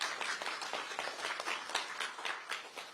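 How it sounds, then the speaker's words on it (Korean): Audience applause opening a launch ceremony for the Democratic Party's livelihood joint council in Korea. Many hands clap in a brisk, steady patter throughout, moderately loud and without voices. "민생연석회의 출범식을 힘찬 박수로 시작하겠습니다"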